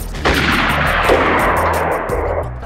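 Gunfire in the survival game DayZ, a rapid burst of sharp shots with ringing echo crackling continuously for over two seconds, loud and fairly close.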